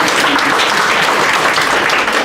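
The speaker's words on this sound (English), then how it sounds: "Please give him a round of applause." An audience at a foundation event breaks into dense, loud, sustained applause, a steady wash of many hands clapping with no pauses.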